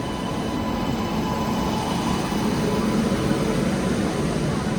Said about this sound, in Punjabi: ਇਧਰੋਂ ਆ ਗਈ ਟ੍ਰੇਨ ਇਹ ਵੀ ਕਾਫਾ ਬੜਾ ਕਾਫੀ ਵੱਡਾ ਜੰਕਸ਼ਨ ਆ ਇਹ